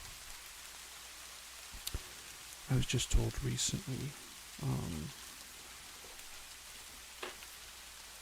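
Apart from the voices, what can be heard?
rain ambience in a bamboo forest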